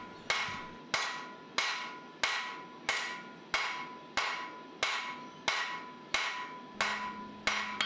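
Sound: heavy hammer blows forging a wrought iron and steel billet

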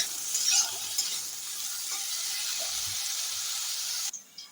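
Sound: eggplant frying in oil

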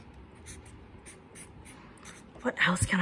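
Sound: drawing with a pen on paper

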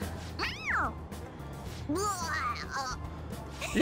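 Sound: cat meowing cry, from video game Persona 5 Royal

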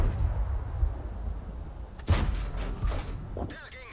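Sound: tank gun shot in video game World of Tanks

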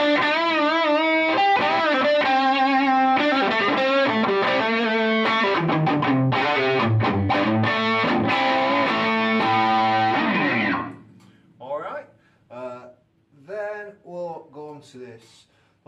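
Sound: heavy guitar amp distortion

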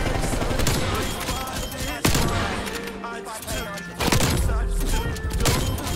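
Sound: gunshots in Call of Duty Cold War video game

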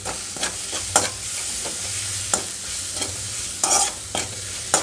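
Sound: frying and stirring gongura leaves with garlic and coriander seeds

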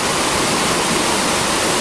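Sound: mountain stream waterfall

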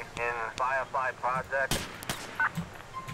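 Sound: gunfire in video game GTA LCPDFR

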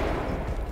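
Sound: gunshots through a wardrobe in the video game Ready or Not

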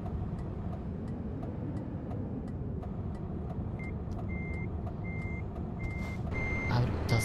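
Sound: truck reversing beeps in Trucks & Trailers video game

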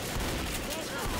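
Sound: gunfire from the video game Left 4 Dead

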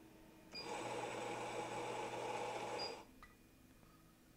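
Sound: grinder grinding coffee beans

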